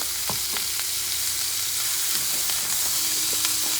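Elk steak frying in butter in a pan gives a steady close sizzle and crackle, with a few sharp pops and spatters scattered through it and no voices.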